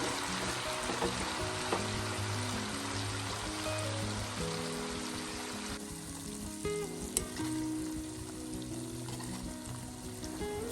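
Shawaya-style chicken fries in a pan, giving a continuous close hiss of sizzling oil with faint bubbling and occasional clinks, steady throughout and no voices.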